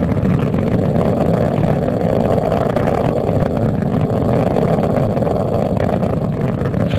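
Space Shuttle Atlantis main engines roaring at launch, a steady, dense low rumble with no breaks, loud and continuous throughout as the three liquid-fuel engines throttle back.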